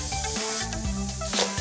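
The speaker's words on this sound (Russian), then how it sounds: "Вы услышите, как из грибов выходит вода." Mushrooms sizzling and hissing in a hot frying pan as they release their water, a steady close spitting fry with tonal hum and brief louder bursts, no talking.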